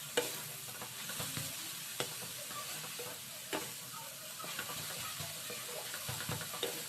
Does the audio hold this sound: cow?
no